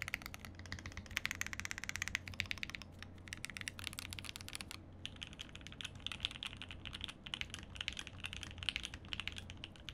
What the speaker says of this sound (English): These are Tangerines lubed and filmed. These, dude, this keyboard actually sounds really good